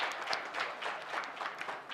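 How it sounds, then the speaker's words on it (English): A short burst of audience applause at a labour law seminar, steady dense clapping from a crowd in a room. "Round of applause."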